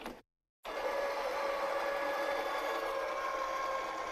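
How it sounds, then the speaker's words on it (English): A die cutting machine switched on, giving a steady whirring motor hum with a faint high whine that carries on evenly after a short silent gap at the start, close and moderately quiet. "Let's turn this machine on."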